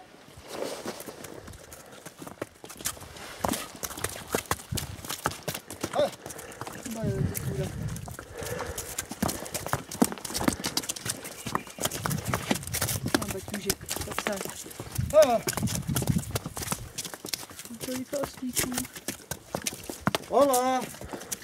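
Donkey hooves clip-clop along a mountain trail near Huaraz in Huascarán National Park, Peru, a steady walking rhythm running under frequent nearby talk and calls.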